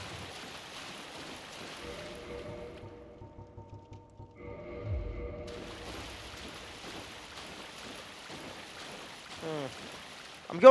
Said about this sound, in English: I'm going off of the sound of the footstep when it splashes in the water